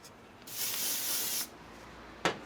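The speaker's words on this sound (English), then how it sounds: "Take your comb and spray everything into place." A single hairspray burst hisses steadily for about a second, close and bright, followed by a short sharp spritz.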